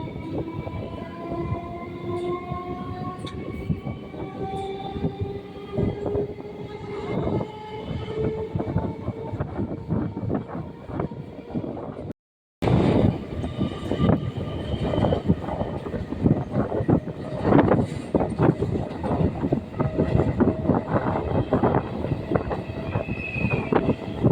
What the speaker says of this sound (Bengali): ট্রেন এখন ইছাপুর স্টেশন ছেড়ে বেরিয়ে যাচ্ছে